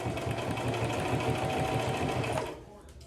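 A sewing machine stitches bias tape onto a fabric face mask, giving a steady, fast mechanical whir that runs close and continuous for about two and a half seconds before stopping.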